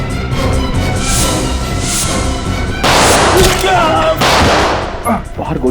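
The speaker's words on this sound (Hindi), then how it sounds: "बाहर गोली चलने की आवाज।" Gunfire rings out outside during a tense police drama scene, a few sharp bursts over a continuous loud noisy bed, with voices mixed in.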